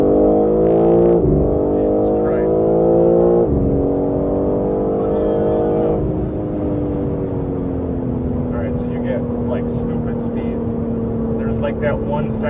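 A BMW G80 M3 xDrive's engine and exhaust drone loudly from inside the car, pitch stepping up in blips during a couple of downshifts before settling into a steady lower hum; a voice talks over it.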